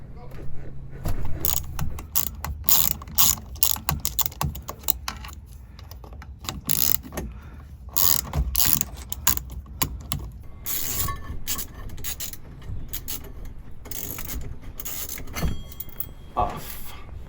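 A ratchet works on the steering wheel nut of a 1972 Plymouth Road Runner, giving rapid clicking bursts and metallic clanks close up, stopping and starting over a low background with some muffled talk.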